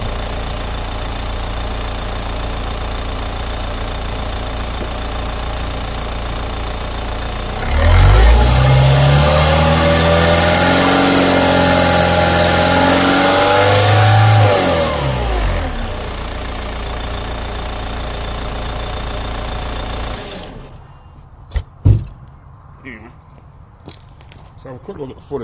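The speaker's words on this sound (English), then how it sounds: "Let's see if we can give it a wee rev, see if it comes up." A Studebaker engine idles steadily, then is revved for several seconds with a rising, sustained drone before dropping back to idle, followed by a few scattered knocks and clatters as it winds down.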